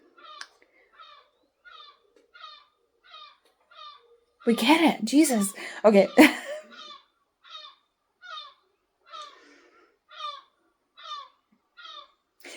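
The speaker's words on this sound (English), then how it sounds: "the seagulls are so loud." Gulls call in a steady series of short, sharp cries, evenly spaced and fairly close, with a person talking briefly in the middle.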